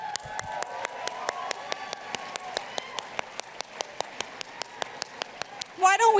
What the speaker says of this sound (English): Let's give another round of applause as we filter the last few nominees here.